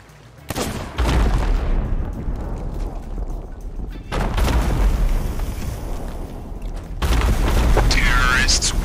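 A MegaKeg bomb chain explosion in the Sea of Thieves video game, several heavy booms in succession, each a loud sustained blast, with voices talking over them.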